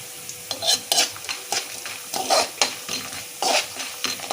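Ingredients for lemon rice frying in a pan while a spoon stirs them, giving rhythmic scraping strokes over a soft sizzle, close and clear.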